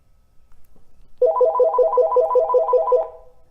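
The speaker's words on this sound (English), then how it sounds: "If you hear that, that's a telephone" A telephone rings with a rapid warbling electronic trill, one long burst of repeated pulses at close range in a quiet room, with no one talking.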